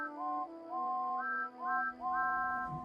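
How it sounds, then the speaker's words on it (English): Cartoon steam locomotives sound their whistles in a series of loud, sustained, tuneful blasts, about four in a row, clear and alone. "sounded their whistles as loudly as they could"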